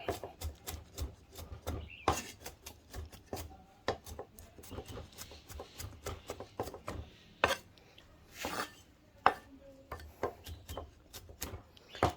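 Knife chopping ingredients finely on a board for Thai salt-and-chili fried pork, a rapid run of sharp, fairly close taps in irregular bursts, with no talk.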